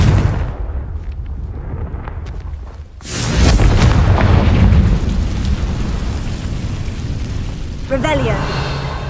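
Confringo fire-blast spell in the video game Hogwarts Legacy: a sudden loud booming explosion midway that rumbles and decays, followed by a later magical zap, with a voice speaking over the game sounds.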